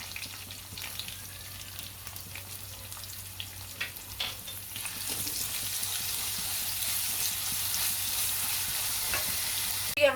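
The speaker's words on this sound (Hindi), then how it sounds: "अब इसमें हम डाल देंगे प्याज, और प्याज के साथ में डाल देंगे नमक, ताकि जो प्याज है जल्दी से गोल्डन ब्राउन हो जाए।" Onions with salt frying in a pan, a steady close sizzle that grows louder and denser in the second half, with occasional stirring scrapes.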